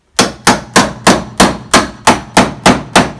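Steel hammer striking an old chisel during living room floor renovation work, ten sharp evenly spaced blows in quick steady rhythm, loud and close, each ringing briefly before the next.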